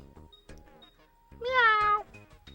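Pharaoh the cat gives a clear, drawn-out meow near the middle, heard over a quiet animated-show soundtrack with faint background tones.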